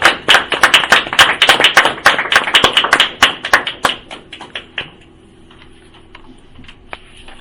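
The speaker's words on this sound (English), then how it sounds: "And just a round of applause." Applause at a city council meeting: a burst of brisk hand clapping from a small group, close and loud for about four seconds, then thinning to scattered claps and room noise.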